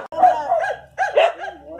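Dogs bark near a house, giving a couple of short bursts that stand out loudly against a low steady hum.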